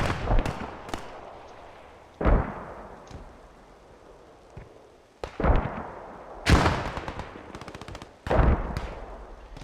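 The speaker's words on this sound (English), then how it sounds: "Yeah, those mortars are overshooting." Mortar impacts and gunfire in the WWII shooter Post Scriptum: several heavy booming blasts spaced a few seconds apart, with bursts of rapid machine-gun fire between them over a steady rumbling battlefield backdrop.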